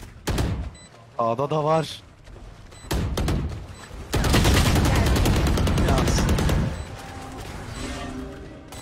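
Gunfire in the video game Valorant, with loud bursts of rapid automatic shots and single cracks close up, heaviest in a long dense volley midway, while players talk over it.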